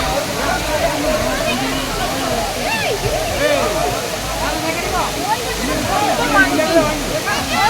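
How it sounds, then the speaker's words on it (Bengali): Dudhsagar Falls in Goa pours over rocks in a loud, steady rush of falling water, with gurgling splashes close by and no voices. "পাথর বেয়ে জল পড়ছে"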